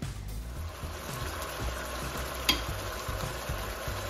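Aloo gosht sizzling in released oil in a covered pot, a steady close frying hiss with soft bubbling that runs evenly throughout, broken by one brief sharp clink partway through.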